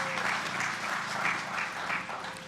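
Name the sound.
graduation audience applause for faculty advisors and the chapter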